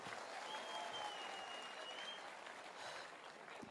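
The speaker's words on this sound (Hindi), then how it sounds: "और दोस्तों मैं चाहूंगा एक जोरदार तालियां जरूर हो जाए गुरुदेव के लिए।" An audience at a motivational talk gives a hearty round of applause for the speaker's mentor, a soft, distant wash of many hands clapping steadily throughout.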